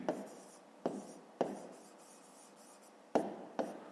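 Pen strokes on notebook paper during a fifth-grade math exercise, five sharp scratchy taps at an uneven pace, close and fairly quiet, with a soft rubbing hiss between them and no talking.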